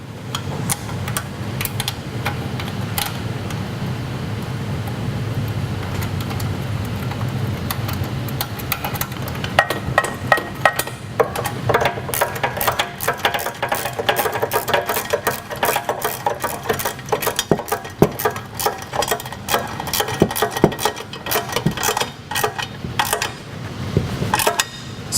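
A screw is driven during assembly of an Earthquake walk-behind lawn edger, heard as a steady mechanical whir that breaks into rapid, irregular clicks and taps, close by with no talking.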